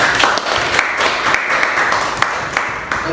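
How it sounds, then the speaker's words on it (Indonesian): A classroom of students claps together in steady, lively applause after an Islamic jurisprudence lesson on caring for the dead, with the clapping close and sustained throughout. "Aplaus untuk kita semua."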